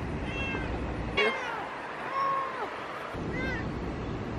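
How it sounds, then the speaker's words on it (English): A stray cat outdoors meows several times in short, close, plaintive cries over a steady wind-like outdoor background, with a brief quiet gap between calls. "My lady cat."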